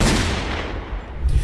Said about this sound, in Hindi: फिर कुछ ही देर बाद पीछे से एक गोली चलने की आवाज सुनाई देती है